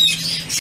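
A parrot in a bird shop lets out a single harsh, loud, close squawk lasting under a second, with a brief cut near the end.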